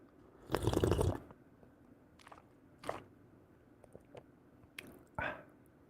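Close, intimate mouth sounds of slurping and chewing: a loud wet slurp first, then several softer smacks and squishy bites spaced apart, with no talking.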